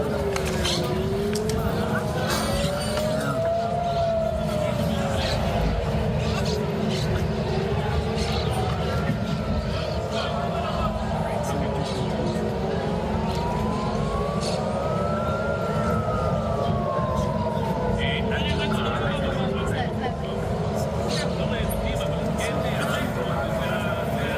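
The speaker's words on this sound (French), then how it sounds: "Écoutez la sirène tout à l'heure en raison des tirs Houthis à Tel Aviv." Air raid sirens wail over Tel Aviv during Houthi fire, several slow rising and falling tones overlapping at a distance above a constant rumble of city and traffic noise, with voices faintly present.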